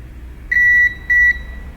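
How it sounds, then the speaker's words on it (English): A multimeter on continuity test beeps while probing a Nintendo Switch circuit board, giving two short, loud, clear electronic tones in quick succession with quiet between them. "So we're gonna check continuity."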